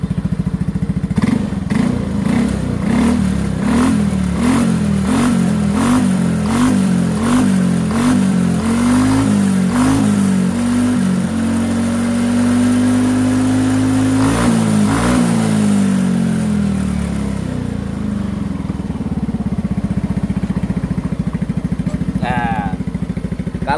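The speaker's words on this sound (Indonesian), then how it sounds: "umumnya knalpot Fu tuh garing-garing yang ada sedikit ngebas-ngebasnya gitu loh" Yamaha NMAX scooter fitted with a racing Fu exhaust, revved repeatedly in short rhythmic blips, then held in a longer rising rev and dropped back to idle, loud and close.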